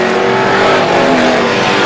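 Loud, continuous roar of vintage race car engines droning steadily around Star Speedway, several cars blending into one constant, near-deafening hum.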